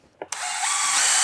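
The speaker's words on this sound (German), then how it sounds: "Dann haben wir normalerweise eine Bohrmaschine da." A power drill fitted with small brushes for cleaning inside a Sachs 503 engine starts with a brief click and whir, then spins up to a steady, loud high-pitched whine with a rising tone.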